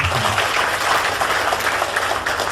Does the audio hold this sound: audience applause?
yes